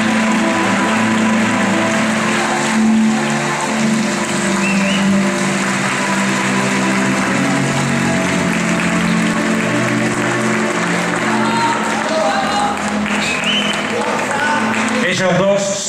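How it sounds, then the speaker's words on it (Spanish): Loud audience applause at a tango-themed fashion show opening, thick continuous clapping over music, with a presenter's voice talking through it. "Fuerte el aplauso, por favor."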